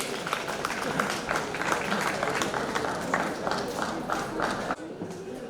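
An audience at a school mathematics quiz contest claps in a dense, sustained round of applause that holds steady and then thins out abruptly near the end.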